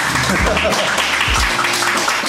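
Applause from a group at a military academy social event, loud and continuous, mixed with voices and low thumps throughout.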